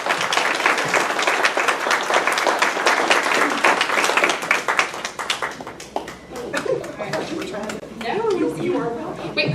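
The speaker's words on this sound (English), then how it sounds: "please put your hands together and give a big Trinity County welcome to Lela Pettinger" A crowd bursts into sustained applause, dense clapping that gradually thins, with a few voices and cheers rising near the end.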